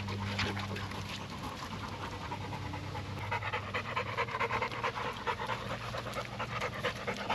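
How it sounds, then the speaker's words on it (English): Two dogs pant hard and steadily after running alongside an ATV, a close, continuous rapid breathing rhythm throughout. "These are two disgusting dogs."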